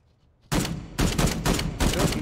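Single-fire gunshots in the VR game Contagion VR: three or four loud, close reports in quick succession after a brief quiet moment, each blast running into the next.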